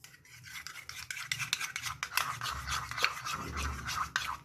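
Sauce being mixed with black pepper and a little salt, a steady scraping stir of a spoon repeating in quick strokes, close and moderately loud, with no talking.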